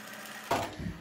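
A sewing machine doing free-motion embroidery, stitching across a cut-out gap in textile fabric; a short close whirring burst that starts abruptly after a quiet moment.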